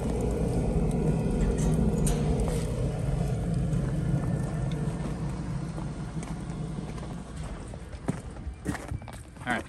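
Outdoor wood boiler blower fan running, a steady broadband whoosh and rumble throughout, with scattered clicks and knocks toward the end and no talking.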